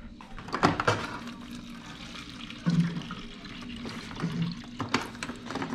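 Water pours and splashes into a container in short bursts, close by, with gentle trickling between the pours.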